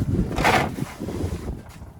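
Gusty wind buffets the microphone outdoors beside a 1936 Chevy coupe during a rear differential swap, a steady low rumble swelling in the first half second and then easing to a rougher, fluctuating roar.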